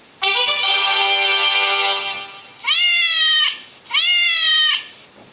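A cat meowing, one long drawn-out meow followed by two shorter ones, loud and close against a quiet background with no talk.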